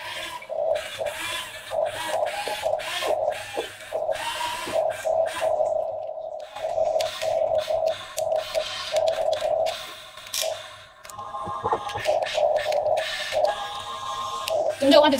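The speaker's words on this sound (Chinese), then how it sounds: "这款挖机还可以360度旋转，给大家展示一下" A remote-control toy excavator turning on its base, giving a steady whirring, buzzing motor whine with scraping and rubbing in repeated stop-start bursts and brief pauses, close by, while a voice talks.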